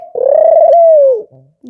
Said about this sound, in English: Bass boosted coo.